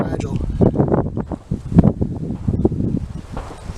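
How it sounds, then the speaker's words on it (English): Gusty wind blows outdoors during a flint-and-steel fire-lighting demonstration, a steady broadband rush with louder buffets, rustling and someone talking over it. "It's a little windy out today,"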